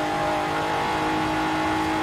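Twin-turbocharged 3.6 litre car engine in the Forza Horizon racing game, revving hard and steadily at high pitch throughout, loud and close with no talk over it.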